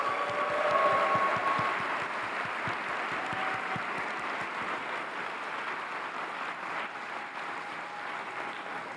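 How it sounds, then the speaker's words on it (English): Audience applause at OpenAI DevDay 2025, a large conference crowd clapping loudly at first, then the clapping thins and fades into a softer sustained patter over several seconds. "Let's give them a round of applause."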